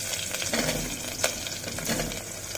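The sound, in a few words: raw mango pieces added to hot pan, sizzling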